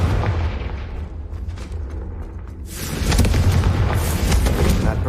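A Confringo spell explosion in a Hogwarts video game booms with a deep rumbling roar that swells into a louder, brighter crackling burst partway through, continuous and close throughout.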